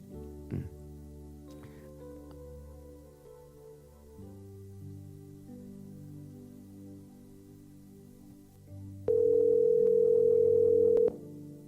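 Telephone line tones while a call is placed, with a steady low hum and tones that shift in pitch, then a louder sustained beep for about two seconds near the end.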